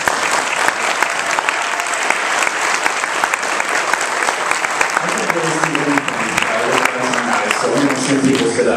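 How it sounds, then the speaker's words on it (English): Audience at a university startup event giving mentors a round of applause, loud sustained clapping from a crowd throughout, with a voice speaking over it in the later seconds. "can you please stand up so we can give you a round of applause"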